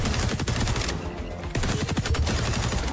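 Gunfire in the shooter game XDefiant: rapid, loud automatic bursts, a brief pause, then another close burst of shots.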